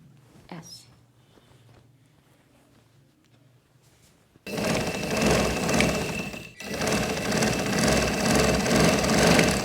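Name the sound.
sewing machine stitching a frock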